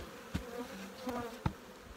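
Honey bees buzz steadily around an open hive box being inspected, a continuous droning hum with a few louder passes as individual bees fly close by.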